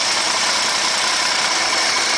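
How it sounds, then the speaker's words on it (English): A 1967 Mercedes engine idles steadily after a cold start with a faulty carburetor, a continuous close, loud broadband rumble with no talk over it. "Let it run."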